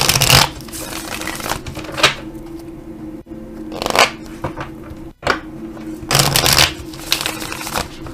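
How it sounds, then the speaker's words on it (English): Tarot cards riffle and shuffle in several quick bursts, close by, with short pauses between each round of papery flutter. "I want to shuffle. I want to reshuffle."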